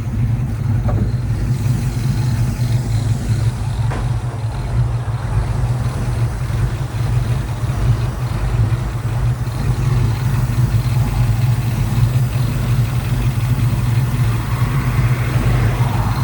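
A 1968 Ford Fairlane 500 Fastback engine runs steadily at idle, a loud, close, continuous low rumble with no talk over it.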